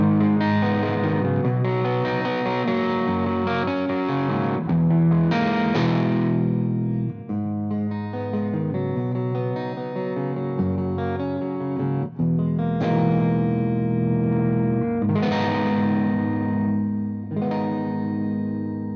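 Electric guitar on a clean amp setting through the Dean DimeTime rhythm pickup, strummed chords and single-note phrases ringing with a slight chorus-like shimmer, loud and close, played alone for about nineteen seconds.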